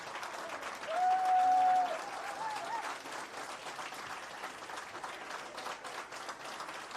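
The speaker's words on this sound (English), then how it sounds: "who I suppose is rightly getting a great applause here" Crowd at a Leinster Junior B camogie championship final applauds a substituted St. Kevin's player leaving the pitch, a steady distant ripple of clapping with a brief louder swell early on, under faint talk.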